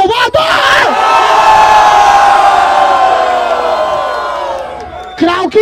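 Loud crowd cheering and shouting at a Brazilian freestyle rap battle in Salvador, a sustained roar of voices and whoops lasting several seconds before fading slightly.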